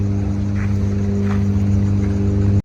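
A tractor engine drones with a steady, mid-pitched hum and a continuous rumble, close and even throughout, with no voices.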